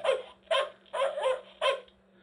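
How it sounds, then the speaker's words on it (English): Four short, electronic-sounding barks from a toy robot dog, evenly spaced, close and clear with a faint steady hum underneath. "It doesn't sound like Frank Welker's barking, actually."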